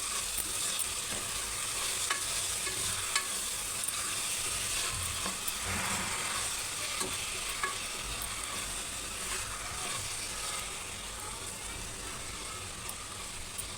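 Mango moong dal with tomato is stirred in a pan, a steady close scraping and bubbling sizzle running continuously with faint clinks from the spoon.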